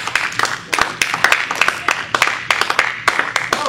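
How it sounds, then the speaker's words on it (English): A small group claps in applause, quick uneven hand claps close by, loud and steady for a few seconds, with no voices over it. "I think that deserves an applause."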